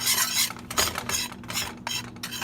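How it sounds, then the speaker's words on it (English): Seasoning mixture of salt and black pepper stirred in a bowl makes a dry, gritty scraping that comes in short repeated strokes, close and fairly loud, with no voice. "So I'm just going to give this a stir."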